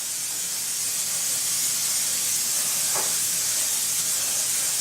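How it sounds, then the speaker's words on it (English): Canola oil cooking spray misted into a pan for beef and reef burgers, a loud, continuous close hiss that holds steady for the whole stretch and ends with a small bump. "I'm going to spray it with canola oil."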